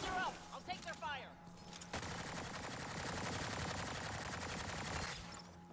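Rapid automatic gunfire from enemies in the 2017 video game Mass Effect Andromeda rattles in a continuous dense burst for several seconds. Game voices talk at the start before the shooting takes over.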